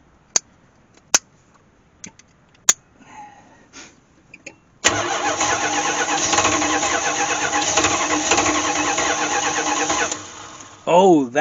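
An old Chevy or Dodge truck that sat in a barn for over 20 years, its engine cranking after a few clicks and catching into a loud, rough, sustained run close by, then revving briefly near the end.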